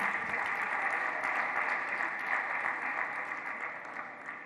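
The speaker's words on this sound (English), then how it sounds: "Another round of applause for Mr. Vice Chancellor." An audience at the UNIMED UCOHUB official launch applauds the Vice Chancellor with continuous, dense clapping from many hands, heard at a distance, steady and then slowly tapering.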